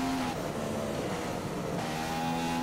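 A Formula 1 race car accelerating in the F1 2015 video game at the Hungary circuit, a loud continuous engine whine climbing in pitch, with a gear change partway through, heard alone.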